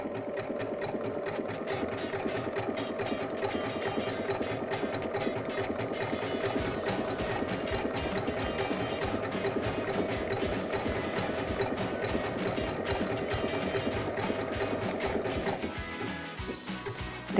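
A Baby Lock Brilliant sewing machine stitches an appliqué with a fast, even mechanical whir and rapid needle rhythm running steadily, slowing and stopping near the end.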